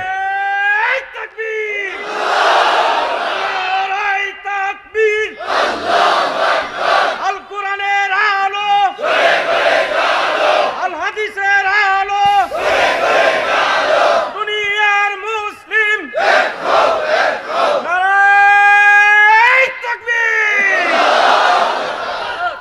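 A large crowd at an outdoor Islamic religious gathering shouting takbir, loud massed chanting in repeated bursts alternating with a single voice leading the call.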